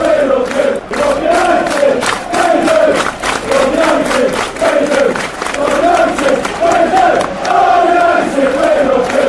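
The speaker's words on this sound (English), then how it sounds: "all right, Sylvia, just listen to the Man United fans cheer at Old Trafford today." Manchester United supporters at Old Trafford during a match against Chelsea, a loud, dense stadium crowd roaring and chanting in swelling rhythmic waves that continue steadily throughout.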